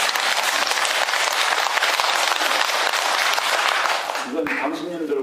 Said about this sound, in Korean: 이건 당신님들을 위한 박수예요.